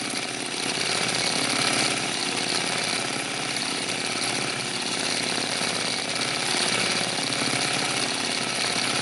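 Long arm quilting machine stitching along appliqué edges, a fast, even mechanical chatter that runs loud and unbroken throughout.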